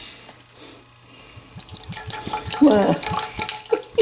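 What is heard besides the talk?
vinegar being poured for homemade BBQ sauce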